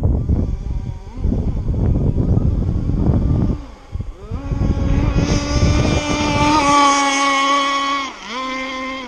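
A ZippKits Super Sport Maiden RC boat runs its small engine close by, first as a rough choppy buzz, then as a loud high-pitched whine that climbs and dips as it turns sharply on the water.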